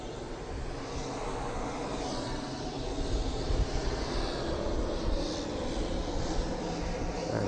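An EasyJet Airbus A320 airliner on approach to Southend Airport gives a distant, steady jet rumble and hiss that swells slightly midway, under open outdoor background noise.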